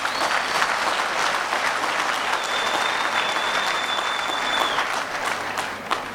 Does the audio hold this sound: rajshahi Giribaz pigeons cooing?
no